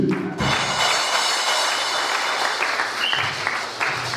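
A church congregation at a Sunday service applauds Jesus, dense sustained clapping filling the room for several seconds after a brief pause, loud and close with no voices clearly standing out.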